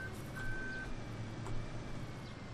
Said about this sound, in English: if you shut a vehicle off while it's got the beep beep beep reverse thing going